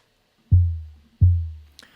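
Two deep synthesized trap kick drum thumps, each with a long booming tail, followed by a faint click.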